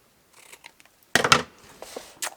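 Scissors trimming off paper tails while crafting Christmas boxes, a few faint clicks followed by a crisp, close snip and a softer cut after it.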